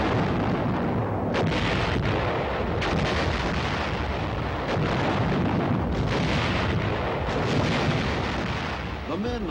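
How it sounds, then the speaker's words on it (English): Artillery guns fire shells in support of an infantry company, giving a sustained, loud rumble of distant blasts and booming reports, with sharper bursts scattered through it. "The men of Charlie Company wait as friendly shells fly overhead."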